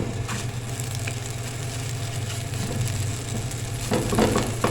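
An egg frying in a pan for tikki masala, a steady close sizzle with soft crackles and a few scraping stirs near the end.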